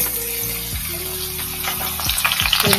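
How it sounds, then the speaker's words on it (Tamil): Vadagam and garlic dropped into hot oil, a close, loud, continuous sizzle with crackling pops that grows busier toward the end, over a faint steady background hum. "நல்லா எண்ணெய் காஞ்சிச்சு. வடகம் போட்டு அடுத்தது பூண்டு"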